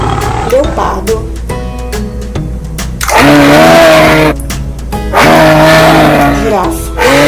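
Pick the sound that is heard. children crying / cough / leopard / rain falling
leopard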